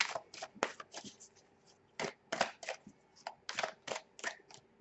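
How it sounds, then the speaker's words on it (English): Tarot cards being shuffled by hand close up, with quick irregular bursts of soft slapping and riffling. "And that's how I shuffle."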